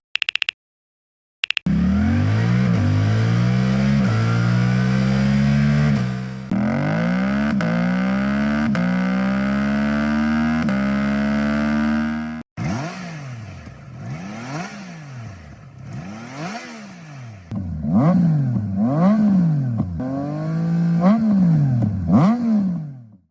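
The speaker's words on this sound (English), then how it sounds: "let me play the exhaust notes to give you a sense of what you'd hear" Motorcycle exhaust notes, including a Trident, heard alone: first a loud, sustained engine note rising through the revs with brief pauses, then a second bike with sharper, repeated throttle blips and revving sweeps.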